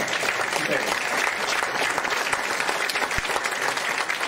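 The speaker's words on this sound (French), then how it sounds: "vous pouvez, vous, concurrents, faire un applaudissement à notre ami Gilbert qui fait super" Audience at a press conference for the 2019 Rallye d'Antibes Côte d'Azur applauds for a colleague, a steady, dense clapping that holds at an even level throughout with faint voices mixed in.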